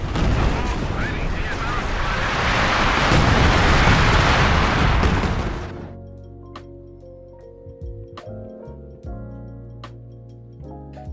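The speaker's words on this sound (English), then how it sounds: "They just really knew how to make an artillery shell really pop back then." Artillery shells burst in the Company of Heroes video game as a dense, roaring barrage of overlapping explosions for about six seconds, then it cuts abruptly to quieter, sparse game sounds.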